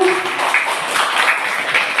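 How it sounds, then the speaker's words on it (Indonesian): A classroom audience claps for a student group that has just finished presenting, giving dense, even applause that lasts about two seconds. "Tepuk tangan untuk kelompok 1."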